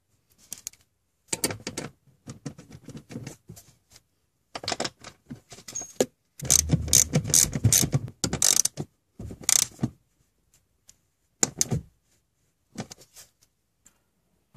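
A car seat slides back along its metal rails, giving bursts of clicking, ratcheting mechanical noise in separate clusters with quiet gaps, loudest near the middle, with no talk.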